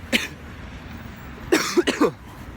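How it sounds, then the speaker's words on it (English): A single short cough near the start, then a quick burst of three harsh coughs close by from a person with a cold out in cold air, over quiet background hiss. "The reason I'm coughing is because I think the cold air is triggering my throat."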